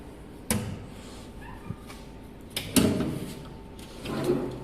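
A soft-close drawer with double-extension brake rails on a solid wood console with louvered doors slides shut, giving a few muted thuds and a soft knock close by in a quiet room.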